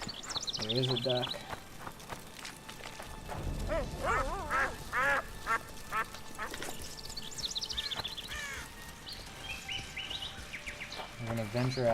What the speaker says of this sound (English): There is a duck.